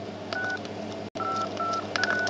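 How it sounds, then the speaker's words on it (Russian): A Nokia J6500 mobile phone sounds a series of short, clear keypad beeps as buttons are pressed to unlock its keyboard, close and fairly quiet, with a brief gap partway through. "Сейчас мы разблокируем клавиатуру."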